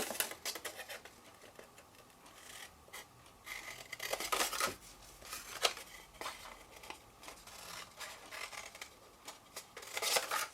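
Scissors snip through paper card in a crafting session, giving a series of short, crisp cutting strokes in irregular rhythm, close and fairly quiet with no talk.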